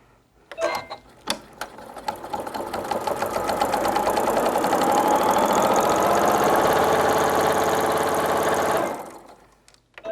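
Sewing machine with an HP foot and plate, model 15,000, starts with a few clicks, then runs a steady, loud whirring stitch for several seconds before stopping, no talking.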